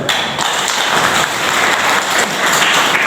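Steady, loud clapping fills a gathering hall during a community talk, a dense continuous wash of many hands with no break.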